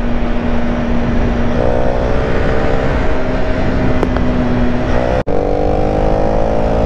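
A KTM Duke 250 motorcycle engine drones loudly and close under heavy load, its pitch climbing steadily as it accelerates, with a brief sharp cut partway through.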